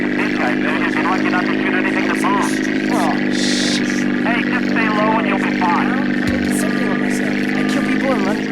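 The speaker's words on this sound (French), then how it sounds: "C'est une mission en avion" Propeller aircraft engine in GTA San Andreas during an in-flight mission, a steady droning hum running throughout, loud and continuous, with someone talking over it and game voices mixed in.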